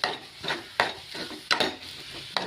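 Soya chunks are stirred in a hot pan on the stove, with a spoon scraping and knocking against the pan in a few distinct strokes over a soft sizzling background, close and clear with no talking.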